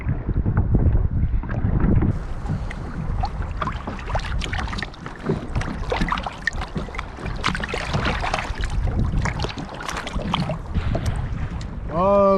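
A kayak is paddled on the open sea off Big Island, Hawaii, with close, irregular water splashes and paddle strokes under steady, gusting wind noise on the microphone.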